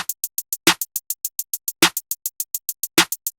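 An electronic snare cracks three times at an even spacing, each hit punchy and bright, over a rapid, steady pattern of short ticking hi-hats.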